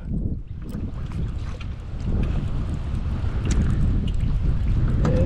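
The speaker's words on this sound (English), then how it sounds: "It's getting pretty windy out here, guys." Steady wind buffeting across open water on a fishing trip, with a constant low rumble and gusty microphone noise that grows a little stronger partway through.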